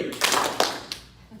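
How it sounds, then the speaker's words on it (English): Audience members at a Kangen Water presentation clap their hands on cue, a brief scattered burst of a few quick claps that fades out within about a second. "when I say go, please clap your hands"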